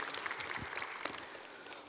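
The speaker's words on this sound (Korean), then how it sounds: "우리 박수로 하나님 앞에 영광 올려드리겠습니다." A church congregation at an early-morning prayer service applauds in praise, a soft, distant patter of clapping that fades toward the end.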